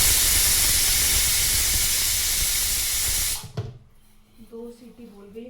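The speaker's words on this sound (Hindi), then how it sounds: "2 सीटी बोल गई, कुकर कर देते हैं बंद।" A pressure cooker whistle blasts a loud, continuous hiss of escaping steam for about three seconds, then cuts off abruptly, leaving quiet kitchen sounds.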